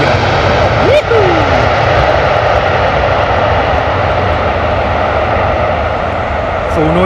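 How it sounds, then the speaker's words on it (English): A Virgin Atlantic Boeing Dreamliner jet arrives at Heathrow with a loud, sustained engine roar and rushing whine throughout, while someone talks excitedly over it. "Lovely arrival there from the Virgin Atlantic Dreamliner"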